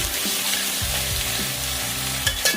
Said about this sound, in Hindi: हम इसमें गोश्त ऐड कर देंगे। इसको अच्छे से भूनेंगे अभी।